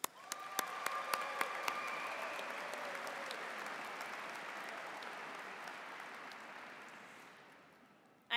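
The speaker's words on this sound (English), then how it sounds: "Graduates, please join me for a round of applause for your high school principals and your counselors" Large crowd at a high school commencement applauding principals and counselors, sustained clapping with a few sharp close claps at the start, holding steady and then gradually tapering off toward the end.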